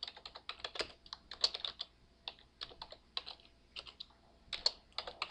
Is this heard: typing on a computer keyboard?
yes